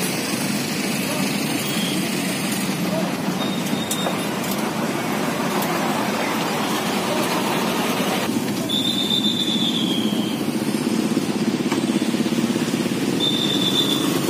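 A loud, steady diesel rumble from a tour bus pulling into a busy cemetery parking area, with the engine droning continuously over crowd noise and occasional high whistling tones.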